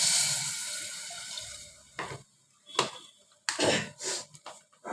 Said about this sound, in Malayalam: അപ്പം നമുക്ക് ആവശ്യത്തിന് വെള്ളം ഒഴിക്കാം.